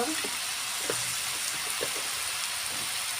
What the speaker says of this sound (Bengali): ভালো করে নাড়াচাড়া করে সবজিটা ভালো করে ভেজে নেব